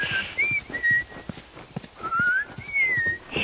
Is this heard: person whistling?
yes